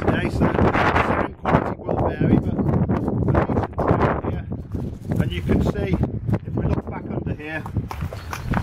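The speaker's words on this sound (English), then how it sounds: "It's a bit windy today," Gusty wind buffets the microphone with a heavy, rumbling roar throughout, outdoors beside a small sailing boat on its trailer, while a person talks over it.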